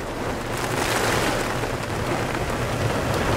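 Heavy rain pours down outdoors in the city, a dense, steady wash of noise that stays loud and unbroken, close around.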